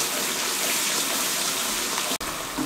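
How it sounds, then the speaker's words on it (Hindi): Masala and chana daal fry in a pan after a splash of water, giving a loud, steady hissing sizzle throughout, alone without talk. "2 मिनट के लिए फिर भून लें।"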